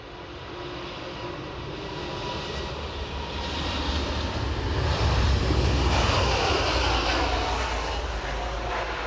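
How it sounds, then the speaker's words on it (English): An airplane on final approach to land at Edinburgh Airport: a broad, steady jet roar that swells over several seconds as it draws nearer, loud and continuous with no voices. "We've got a plane in on final approach behind."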